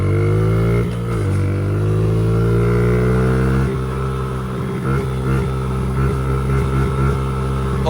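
A cheap pit bike's small engine revs up on a test ride, its pitch climbing steadily, then settling into a choppier, uneven drone with repeated throttle blips.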